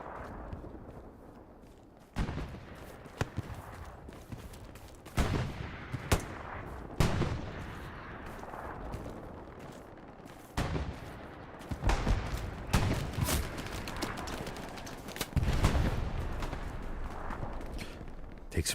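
Gunfire fills a video game battle among hedgerows and Belgian gates, with repeated bursts and single shots at varying distances plus heavier booms. The firing is loud and dense, cracking over a constant rumble of combat.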